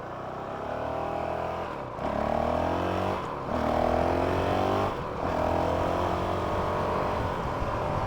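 A stock Honda CRF 450 RL motorcycle engine runs at a steady, fairly quiet hum, with its pitch dipping and rising through a few gentle throttle changes and short shifts, heard alone without voices.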